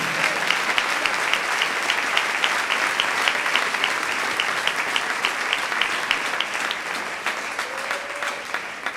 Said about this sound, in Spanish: Dele un aplauso al Señor en esta noche.